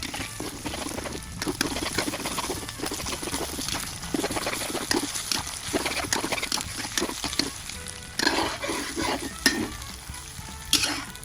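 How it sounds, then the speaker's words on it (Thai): Three eggs frying and being scrambled in a pan for stir-fried instant noodles, a steady close sizzle with scraping stirring strokes throughout, with no talking. "นำไข่สามฟองลงไปทอดนะครับ ยีไข่ให้แตกออกจากกันนะครับ จนไข่สุกแล้วตักขึ้นพักไว้นะครับ"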